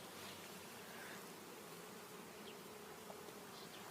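Bees buzz steadily around phacelia flowers, a soft continuous hum with a few louder passes close by.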